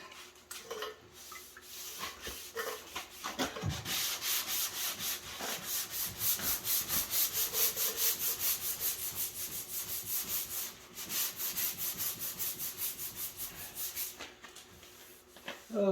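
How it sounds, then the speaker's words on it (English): Wet sanding of body filler on a 1973 Plymouth Duster, a steady gritty back-and-forth rubbing in continuous strokes with brief pauses, fairly quiet and close. "Oh, the joys of wet sanding."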